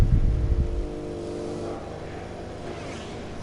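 A racing motorcycle engine revs hard as the rider prepares to head onto the track, loud and rumbling at first, then dropping back to a quieter, fading drone.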